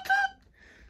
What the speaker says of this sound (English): has a whistle that sounds like this